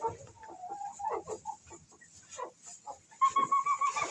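Hens in a chicken coop cluck in short, scattered bursts, close by, with a louder run of rapid clucks near the end; no talking.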